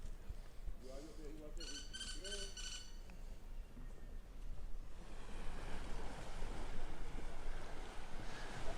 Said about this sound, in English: this is a deep water port where some of the trawlers are kept